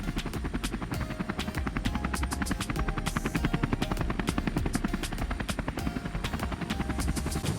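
A helicopter hovers close overhead, its steady rhythmic rotor chop pounding loudly and continuously over the din, above a boat at night in rough weather near an inlet.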